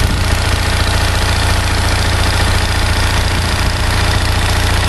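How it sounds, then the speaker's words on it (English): A 1800 RPM electric-start generator engine fed by a charcoal gasifier runs steadily and loudly, a dense continuous drone with rough knocking texture and no pauses or voices. "1800 RPM generator, electric start."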